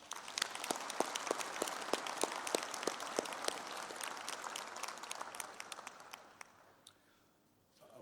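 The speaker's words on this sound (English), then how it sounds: "Let's give him another round of applause." Audience applause for a speaker at a university Humanities and Law graduation ceremony, a hall full of clapping with distinct sharp claps, sustained for several seconds before tapering off and fading to near quiet at the end.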